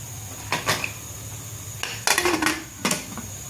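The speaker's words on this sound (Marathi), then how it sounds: "हे कुकरचं झाकण लावून घेते आता" Metal clatter of a pressure cooker lid being set and twisted onto the pot, several sharp clanks and scrapes in bursts, close and fairly loud, no talk.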